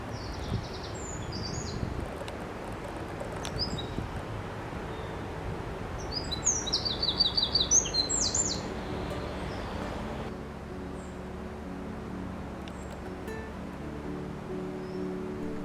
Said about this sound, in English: The wren is quite easy to know that it is there by its call. Its song is very loud.